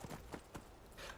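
Horse hooves clip-clop a few times in Skyrim, faint, spaced steps with a soft gait, no talk over them.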